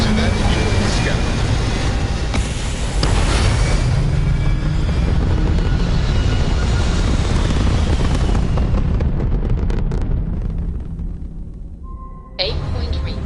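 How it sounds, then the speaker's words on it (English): A spaceship lifting off in the video game Starfield, a loud, sustained roaring rumble of engines that swells and then thins out into crackling before cutting to quieter tones, with a voice speaking over it. "Liftoff initiated, Captain."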